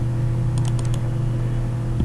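Keys tapped on a computer keyboard during AutoCAD drafting, a quick cluster of four or five light clicks close by over a steady low electrical hum, with no talk.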